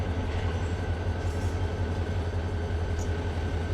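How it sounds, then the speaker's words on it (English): A BNSF freight train slowing to a stop in the Run8 Train Simulator game, with a steady low rumble of rolling railcars and faint clatter, continuous and unaccompanied by speech. "so we'll go ahead and bring the train to a stop here"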